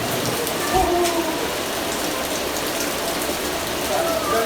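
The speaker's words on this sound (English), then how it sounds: "Finally we've got rain." Steady rain falling outdoors in the UK, a dense continuous hiss of drops on surfaces with faint scattered ticks and patters throughout.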